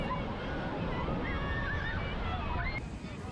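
Sea waves wash onto the beach at Puri, a steady broad surf roar with wind noise on the microphone running through the whole stretch, no talk over it.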